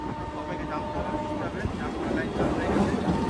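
A local train makes its inaugural run on the new Krishnanagar City–Amghata railway line, giving a steady, close rumble of carriage and track noise throughout, with faint voices mixed in.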